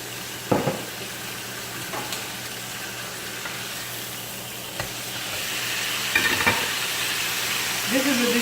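Jerk chicken breast pieces sizzle in a pan while being brushed with sauce, a steady close frying hiss broken by a few knocks and clatters of handling, with the sizzle swelling toward the end.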